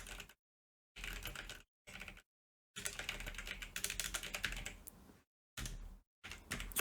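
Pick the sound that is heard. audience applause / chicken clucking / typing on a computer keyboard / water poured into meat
typing on a computer keyboard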